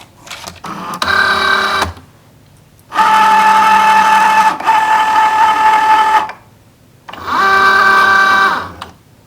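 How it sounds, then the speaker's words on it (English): A Cricut Joy machine cuts premium vinyl in three close, steady motorized whirring bursts, each lasting one to two seconds and separated by brief quiet pauses, with no talking. "And then you just hit go and it will start cutting."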